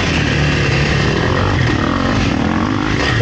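A Kawasaki KLX300R dirt bike engine roars loud and steady at close range, a continuous dense drone without breaks or speech.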